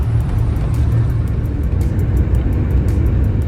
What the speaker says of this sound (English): the bus has arrived